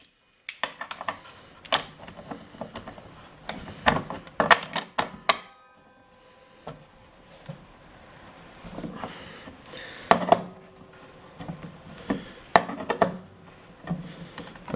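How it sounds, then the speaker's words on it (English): Irwin bolt extractor worked with vice grips on a stuck bolt: close metallic clicks, clanks and ratcheting taps in clusters, separated by a quiet stretch midway. "show you using vice grips with the extractor"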